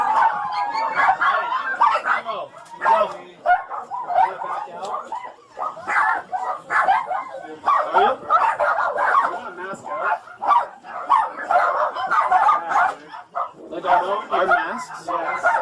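Many rescued dogs in a filthy hoarder house bark and yip in a continuous, overlapping chorus, loud and close, with occasional whimpers and brief pauses.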